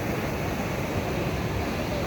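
Sea waves slap and wash against a small wooden boat in rough water, a steady loud broadband roar with wind buffeting the microphone throughout.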